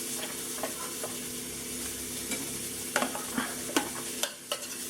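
Garlic and onions frying together in a pan while being stirred: a steady low sizzle with occasional clicks and scrapes of the utensil, close and quiet, with no talking.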